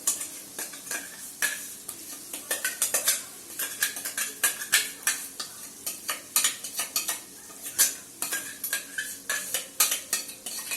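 Ground masala being stirred into mashed tomato in a pan for a cauliflower curry, with a spoon clinking and scraping against the pan in quick, irregular strokes over a faint sizzle, close and without talk.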